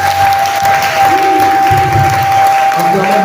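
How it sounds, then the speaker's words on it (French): A church congregation applauds and cheers in worship, a loud continuous mass of clapping and voices with a steady tone sounding over it and some low rumbling underneath. "donnons des acclamations au Seigneur."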